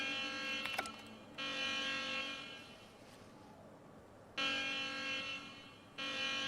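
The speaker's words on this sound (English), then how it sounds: "Let's turn the alarm on and see if we can get all the marauders outside." An alarm in The Outer Worlds sounds as a steady electronic buzzing tone in long blocks that cut off and restart, moderately loud, alongside brief clicks and a faint background hum.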